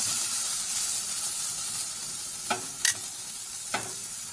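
Sausages sizzle on a barbecue grill in a steady, close frying hiss, with a few brief sharp crackles and pops near the end and no voices.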